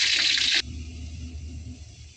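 Water pours in a steady hissing stream into a cooking pot for about half a second, then cuts off abruptly, leaving a faint low hum and quiet room tone.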